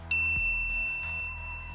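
A bright notification bell dings once near the start, with a clear metallic ring sustaining and slowly fading over a low musical bed, standing alone with no talking.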